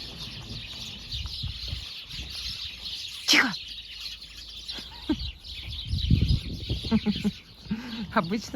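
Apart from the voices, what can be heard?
chorus of chirping sparrows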